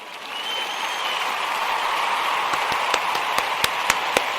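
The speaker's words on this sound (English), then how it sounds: "We want to give all of the Ujamaa babies a round of applause." A crowd applauding during a Kwanzaa Ujamaa day gathering, a full even wash of clapping with a few sharp individual claps popping out near the end.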